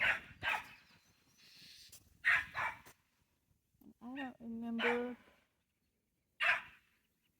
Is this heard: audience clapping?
no